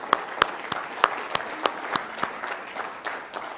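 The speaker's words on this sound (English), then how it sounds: "So give yourselves a big round of applause." A conference audience at an Amway India event claps for themselves, with sparse, distinct hand claps ringing out one by one, moderately loud and spaced irregularly.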